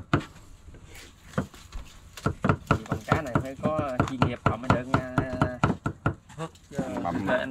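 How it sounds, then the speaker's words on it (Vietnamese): Rapid knife chopping as fish is minced on a board, a quick run of sharp taps, with people talking over it. "Bằm nghe thôi, cái dao nó xuống này sực sực ha"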